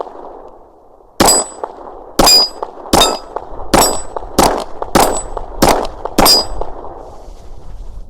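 Rounds striking steel targets at a shooting range, about eight sharp metallic clangs with ringing tails spaced roughly a second apart, loud and close over a low background rumble.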